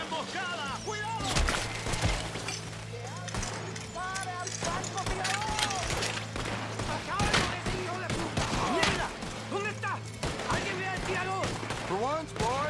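Repeated gunfire in Red Dead Redemption 2 during a prison escape on Guarma, shots cracking in scattered bursts over a steady low hum, with shouting voices and talk throughout.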